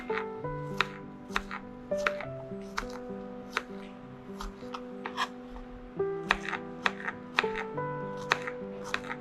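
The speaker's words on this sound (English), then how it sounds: "After peeling, you have to slice the shallot fine." Peeled shallots sliced finely with a knife on a board, a fast, regular run of crisp taps in two bursts over faint background tones, close and alone.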